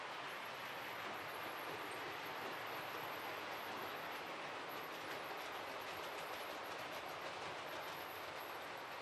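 A train rolls past at a distance with a steady rushing roar and faint high wheel squeal, continuous throughout.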